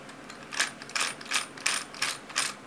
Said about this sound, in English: That is a metal spur gear on a 1/10 scale electric car